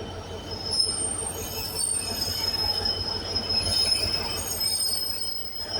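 Class 156 diesel unit 156480 in Royal Air Force livery passing through Carlisle on the West Coast Main Line, wheels squealing with a high thin whine over a steady rolling rumble, moderately distant.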